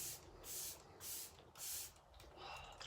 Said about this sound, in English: I'm gonna go in with our Let It Set Refreshing Spray and just give my face a nice little soak with that